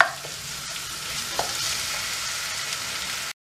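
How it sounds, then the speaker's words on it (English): Onions and spices sizzle and fry in a pan while being stirred for a peri-peri vegetable stir fry, with a steady close hiss and occasional scraping clicks throughout. "I'm just giving that a good stir"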